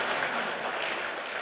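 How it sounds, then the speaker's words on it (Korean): Church congregation during a Sunday worship service applauds to welcome a guest, a steady, fairly loud wash of many hands clapping with no individual claps standing out. "한번 일어서 우리 박수로 한번 환영해 주십니다."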